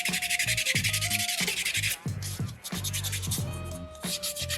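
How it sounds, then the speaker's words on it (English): Folded sandpaper rubs briskly over a soapstone sea turtle carving in rapid back-and-forth strokes, loud and close, pausing briefly midway before resuming. "Fold that sandpaper up as well."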